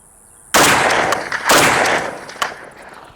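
FAL rifle with an old magazine spring firing two rounds, two loud sharp blasts about a second apart, each followed by a ringing echo that slowly fades, with no talk.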